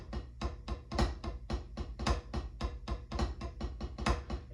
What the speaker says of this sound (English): With the flam paradiddle, it's going to sound like this.